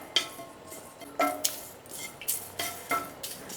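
Curry leaves roasting in a hot pan for homemade rasam powder, giving a light crackling sizzle with several sharp scraping stirs of a utensil against the pan, close and clear.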